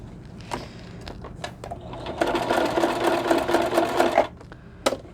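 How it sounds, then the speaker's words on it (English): A sewing machine runs in short bursts, then a steady stretch of rapid mechanical stitching up close, stopping with a couple of clicks. "Now I'm going to sew, and I'm just going to sew around the edge on this inside here."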